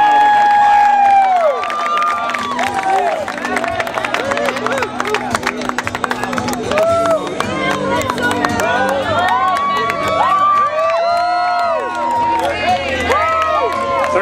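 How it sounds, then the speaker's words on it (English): A crowd at a Guinness World Record attempt cramming people into a Volkswagen Beetle cheers and claps, a busy wash of whoops, whistles and babbling voices that stays lively throughout. "Let's give a big round of applause for him coming out."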